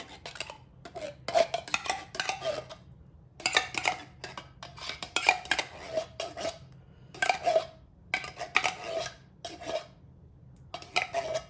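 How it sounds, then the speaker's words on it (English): Cream of chicken soup scraped out of a metal can with a utensil, repeated bursts of rough metallic scraping and clinking separated by short pauses, close and fairly loud, with no talking. "Try to scrape as much as I can out of that can"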